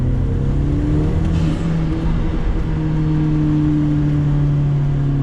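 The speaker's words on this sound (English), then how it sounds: "I hope you're hearing that, dude. I'm making turbo noise." A Hyundai Genesis Coupe 2.0t fitted with an AEM intake driving under load, giving a loud, steady engine drone and a sustained turbo whir from inside the car, with no one speaking.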